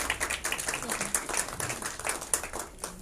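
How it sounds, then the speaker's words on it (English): An audience at a gender-equality event held with the Embassy of Sweden claps for the guests, a short burst of dense, moderately quiet applause with a voice mixed in. "We can give them a round of applause."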